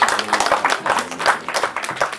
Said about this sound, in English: Family, give yourself a clap.